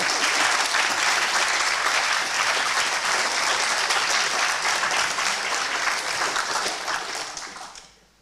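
Loud, dense audience applause at a university master's program closing ceremony, sustained for several seconds and then fading away.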